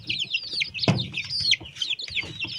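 Month-old chickens on a poultry farm keep up a busy, close chorus of high cheeps and chirps with low clucks underneath and one short louder squawk.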